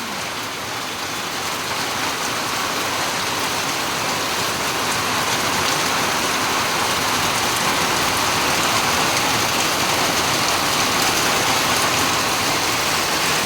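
Heavy rain pours steadily in a storm, a dense continuous hiss of drops on surfaces with wind mixed in, loud and unbroken with no voices.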